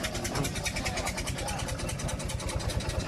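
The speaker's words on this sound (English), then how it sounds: "there he goes in the steam car there" A steam car drives past at a steam rally, giving a steady, rapidly pulsing chuff over a busy outdoor background that stays at an even level throughout.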